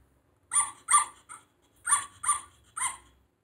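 A puppy barking in six short, sharp yaps, first a quick pair, a softer one, then a close group of three, each near and clear against silence.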